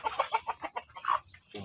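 Free-range village chickens on a farm cluck in a quick run of short, close, fairly loud calls, then fall briefly quiet before another sound at the end.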